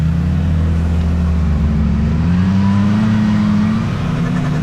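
Loud, close engine of a Kawasaki Teryx5 H2 side-by-side revving and accelerating, its deep drone rising steadily in pitch and holding strong throughout.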